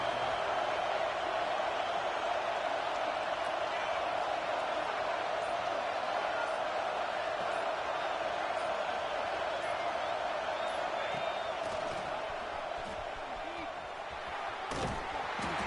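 Stadium crowd noise in a Madden college football game between Ole Miss and Texas, a steady broad roar swelling as the home fans try to rally the defense, running continuously under a commentator's voice.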